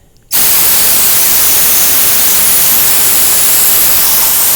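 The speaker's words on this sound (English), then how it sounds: "use the air compressor, and you should see it shoot out there on the other end" A steady, loud rush of compressed air from an air compressor, blown through a rudder steering tube on a 2019+ Hobie Outback kayak during a repair, bursting on abruptly after a brief quiet start and holding constant.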